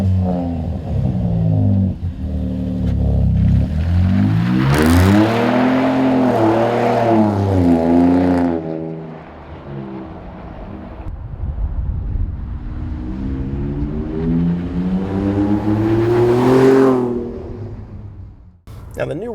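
A Ford F-150 Raptor fitted with a MagnaFlow 3-inch dual split rear exit cat-back exhaust revs in two strong, rising sweeps separated by a settling lull, loud and close with deep layered engine tones.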